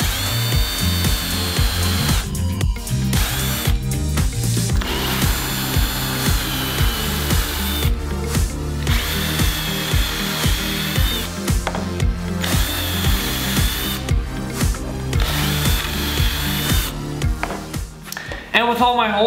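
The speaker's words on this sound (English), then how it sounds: "I'm gonna finish the hole by going all the way through with a 3/16 inch drill bit" Forstner and twist drill bits bore holes in wood, a power drill whining in repeated bursts with short pauses between, close and loud, with some speech mixed in.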